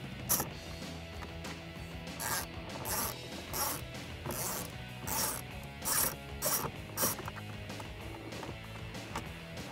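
A ratchet with a small extension and T20 Torx bit removes screws from a 2009-2018 RAM 1500 dash, giving repeated short bursts of clicking at a close, moderate level with no talk.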